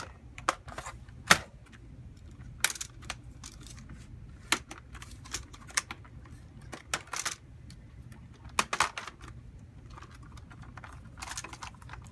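Plastic casing is pried off a Logitech G910 keyboard, giving scattered sharp clicks and snaps at irregular intervals over quiet handling noise.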